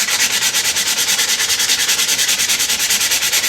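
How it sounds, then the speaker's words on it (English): Sandpaper rubbed steadily over a wooden bow limb while tillering an Ishi-style bow, a close, loud rasping with a quick regular back-and-forth rhythm of strokes throughout. "hit that with the sandpaper"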